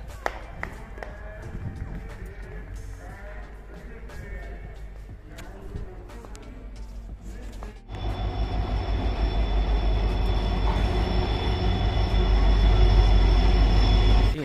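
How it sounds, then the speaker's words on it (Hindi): A train arriving at a railway station, its rumble swelling abruptly halfway through into a loud, continuous roar with rattling wheels and faint squeals, preceded by station bustle and distant voices. "वहाँ पर ट्रेन आ गई है।"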